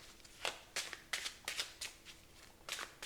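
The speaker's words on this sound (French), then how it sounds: "Vous allez demander au spectateur de mélanger toutes les cartes." A spectator riffle-shuffles a deck of playing cards on a mat, about seven crisp, quick ruffling bursts in a row, close and clear with no talking.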